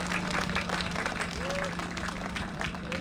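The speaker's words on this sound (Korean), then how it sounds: "큰 박수로 환영해 주시기 바랍니다." Crowd applause at an outdoor campaign rally at Seoul Forest, welcoming a speaker for mayoral candidate Oh Se-hoon; steady clapping throughout with a sustained low hum and background crowd noise.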